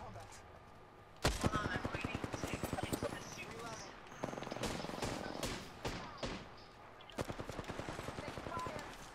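Gunfire in the video game Apex Legends, bursts of rapid automatic shots in several separate volleys across the stretch, fairly faint and mixed with game effects.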